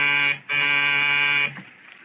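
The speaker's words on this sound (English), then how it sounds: "the buzzer to the Smiths' apartment hummed like an angry bee." An apartment door buzzer sounds two loud, harsh electric blasts, a short one then a longer one of about a second, cutting off abruptly into quiet.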